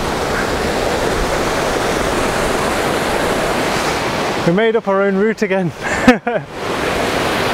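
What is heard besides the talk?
river water rushing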